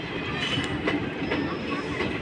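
Steady rumble of a moving train with faint rhythmic clatter from the wheels, heard from inside or close by.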